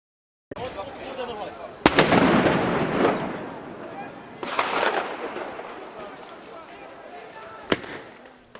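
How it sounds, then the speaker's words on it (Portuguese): Sharp explosive blasts and bursts of gunfire from fighting in Ukraine crack out several times in quick succession, loud and echoing, with rumbling booms between the sharper reports. "Explosões, tiros, tudo igual a uma batalha."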